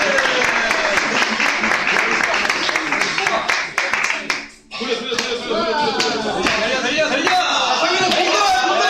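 Applause at a children's class prize-winner event, brisk clapping from a group that keeps going throughout, with lively voices and cheering mixed in and a brief dip midway.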